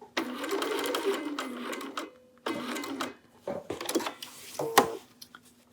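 A home sewing machine stitches fabric in bursts, pausing briefly while the garment is turned at a corner, then running on up a side split; close and steady, with no talking.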